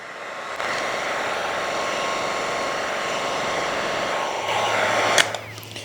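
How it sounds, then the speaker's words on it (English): A heat gun blows hot air onto heat shrink tubing over spliced wires during a Honda 450R big bore build. It gives a steady, close whooshing roar for about five seconds, then a click as it switches off and the airflow winds down. "hit it with the heat gun"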